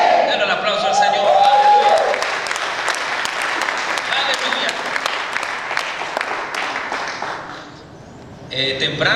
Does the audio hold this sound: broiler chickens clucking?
no